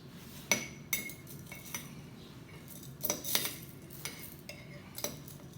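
Whole coffee beans pour and clink against a scale container in short bursts while being weighed out in small batches, each addition a quick rattling tumble with quiet pauses between, close and fairly soft, no talking.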